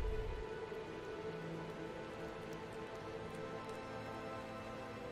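Steady rain falls at night in the post-apocalyptic colony game Surviving the Aftermath, a faint, continuous patter with a soft low hum beneath, with no voices.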